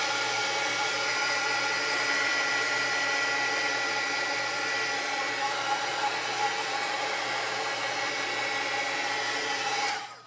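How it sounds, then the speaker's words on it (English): A heat gun blows hot air over Colorburst ink in a steady, loud rushing whoosh that lasts about ten seconds and then cuts off, with no speech. "And by hitting it with the heat gun"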